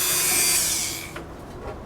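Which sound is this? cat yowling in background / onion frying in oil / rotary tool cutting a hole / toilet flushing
rotary tool cutting a hole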